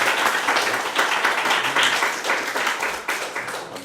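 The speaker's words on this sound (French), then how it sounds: "On peut applaudir pour vraiment..." A church congregation applauding first-time visitors, steady rhythmic clapping from many hands lasting several seconds, fairly close and even.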